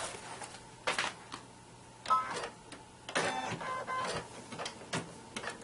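An embroidery machine runs an appliqué placement stitch, giving quiet, clattering bursts of rapid mechanical needle strokes separated by short pauses, close up and alone.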